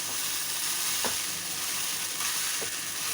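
Sago upma mixture with peanuts sizzles steadily in a frying pan while being stirred, a dense hiss broken by a few soft scrapes of the spoon across the pan.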